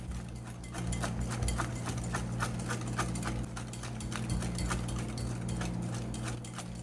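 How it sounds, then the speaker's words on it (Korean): Butter and sugar batter with eggs for sweet pumpkin cream cheese muffins is whisked briskly, with rapid rhythmic clicking strokes against the bowl over a constant low hum. "달걀을 넣고 난 후에는 조금 빨리 휘핑해 주세요"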